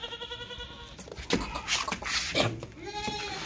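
A goat bleats several times, wavering, nasal cries close by, with faint rustling and a soft voice in the background.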